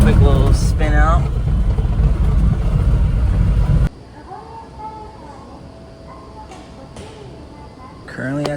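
A car in Japan, shifted into a fun mode, does a quick spin out: a few seconds of loud engine revving and roaring noise with rising whine sweeps, then an abrupt cut to a much quieter scene.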